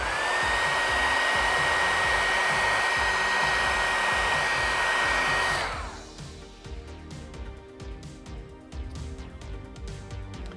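A heat gun blows steadily while warming vinyl wrap on a Cybertruck body panel to work out wrinkles: a loud, even whooshing roar with a faint whine that runs for about six seconds, then cuts off, leaving quiet room noise.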